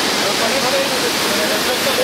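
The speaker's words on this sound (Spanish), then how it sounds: "Parte del agua que llega a esta cascada viene de la laguna de Chignahuapan y su destino es la presa Necaxa." Quetzalapan waterfall, fed partly by water from the Chignahuapan lagoon, roars as a steady, dense wash of falling water, loud and close with no breaks, while a faint voice sits beneath the torrent.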